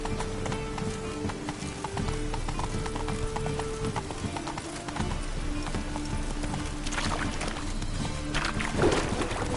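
Horse hooves galloping in The Witcher 3, a steady rapid clip-clop drumming throughout with game ambience beneath and a brief whinny-like tone near the end.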